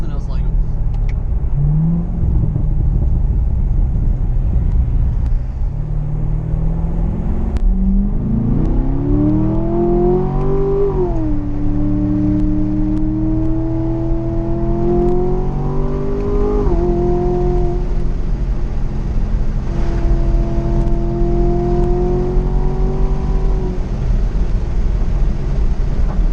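A Chevy Corvette C7 Z51 rumbles from inside the cabin while driving a mountain road, its loud engine note rising and falling through several climbs in pitch as it accelerates and shifts, with a voice now and then over it.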